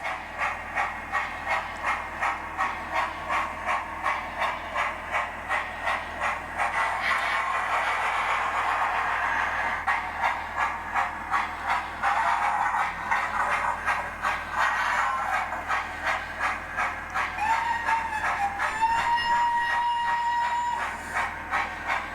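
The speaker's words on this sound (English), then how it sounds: "The sounds it's making when it changes direction, the loco is doing itself." A Hornby Lord Nelson model steam locomotive chuffs rhythmically with hissing steam, pauses, then resumes in the other direction, with whistle-like tones near the end and no talk.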